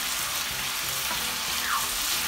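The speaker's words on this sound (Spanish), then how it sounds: "Nomás voy a esperar que se sofría un poquito más esto." Tomato, onion and garlic sauté in a pan with a steady close sizzle and crackle of frying, joined briefly by a light stirring scrape, with no talking.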